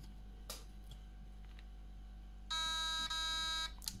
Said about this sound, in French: Deux bips longs.